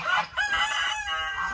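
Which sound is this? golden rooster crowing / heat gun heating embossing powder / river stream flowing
golden rooster crowing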